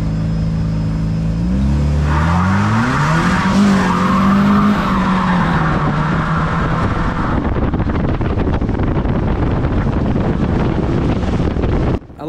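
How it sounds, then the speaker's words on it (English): Race car wheels spin hard at the start of a race final, a loud rising engine whine with tire scrub and heavy wind buffeting, continuous for several seconds before cutting off abruptly. "I literally didn't even give the car any throttle there for the start, and it still was spinning like crazy."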